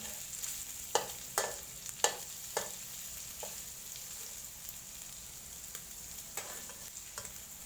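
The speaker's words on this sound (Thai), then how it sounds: "ใส่กระเทียมจ้ะเทียมผัดกับหมู" Pork belly and garlic stir-fried together in hot oil, with a steady sizzle broken by several sharp spatula scrapes and clacks against the pan early on, then softer scattered stirring.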